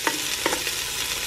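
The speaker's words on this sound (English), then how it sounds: "Look at it sizzle" Garlic sizzles in hot oil in a pot for a vegan three-bean chili, with steady frying crackle broken by a few louder scrapes and clanks as it is stirred, close up and with no talking.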